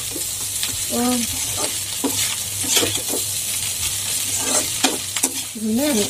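Pork fried rice stir-fried in a pan, with steady sizzling and repeated scraping stirs from a utensil, close and fairly loud, while a person talks intermittently over the cooking.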